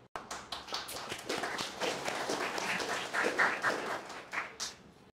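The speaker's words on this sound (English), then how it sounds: "thank you very much for your claps" An audience applauds a speaker at an English-language speech event, many hands clapping densely and steadily for about five seconds, fairly close and continuous with no talking over it.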